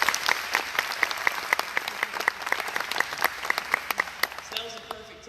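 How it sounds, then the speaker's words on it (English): Members of the audience at a county commissioner candidate forum clap loudly on request, sharp separate claps sounding in quick succession before a voice starts speaking at the end. "can I hear you clap loudly one time just to make sure you can do it?"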